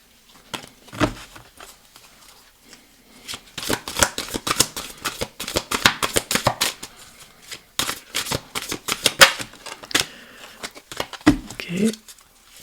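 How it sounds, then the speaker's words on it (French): Oracle cards being shuffled by hand, a quick run of crisp riffling and slapping bursts repeated many times close to the microphone, with a brief pause early on and a voice speaking only faintly. "Alors, je mélange les cartes."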